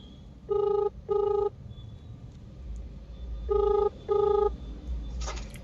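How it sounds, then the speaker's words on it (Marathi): A phone call ringing tone, two pairs of steady electronic rings separated by a pause, clear and close over low background hum. "आता दाजीला फोन लावू आपण"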